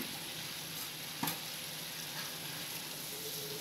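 Dhal bubbling in a pot as it finishes with a spoon of ghee, a steady, soft hiss and bubbling with one brief clink near the middle.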